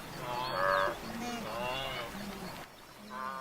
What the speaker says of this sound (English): Guinea fowl seem remarkably happy to tempt fate.